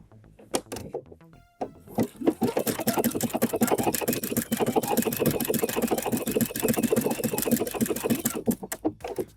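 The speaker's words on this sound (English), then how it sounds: "Now I'm going to make my bar tack, and I need to put in the other piece of cording." A sewing machine stitches a bar tack at the end of a corded buttonhole, its fast, steady needle rattle running close and loud for several seconds after a few brief starts, with no talking over it.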